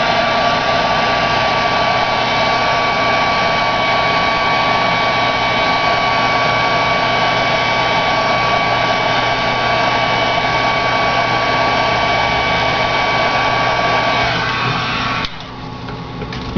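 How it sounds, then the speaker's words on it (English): Handheld heat tool blowing steadily to dry paint on a melt art piece, a loud, close, continuous whirring hiss with a constant tone, changing slightly near the end as the airflow shifts, with no talking. "I think I want to hit it with my heat just to dry some of it down."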